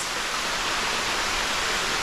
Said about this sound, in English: I realize that's the waterfall, or if it's starting to rain, I think both are happening.